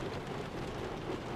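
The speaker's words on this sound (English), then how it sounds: "It is raining really, really hard right now" Heavy rain drums steadily on the roof and windows of a car on a cold day, a dense, unbroken hiss and patter heard close from inside the cabin.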